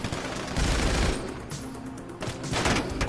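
Sustained automatic gunfire in a GTA video game as the player is shot from behind, a dense, loud, continuous fusillade with no speech.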